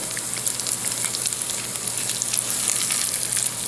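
Parsnip patties fry in oil in a pan, giving a dense, even sizzle with fine crackling pops throughout, close and with no voices.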